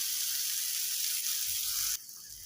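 Chopped onion and tomato with salt sizzle steadily in a pan for Amritsari dhaba-style paneer bhurji, a continuous bright hiss that drops abruptly quieter near the end.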